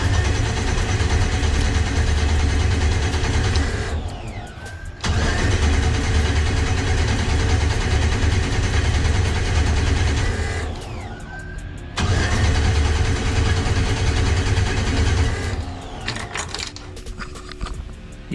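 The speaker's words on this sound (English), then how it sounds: "Spin it over, see if it does anything." Damaged 5.3 LS small-block engine being cranked over by the starter in three long, steady bursts with short pauses between. The churning cranking drone is loud and close and never catches.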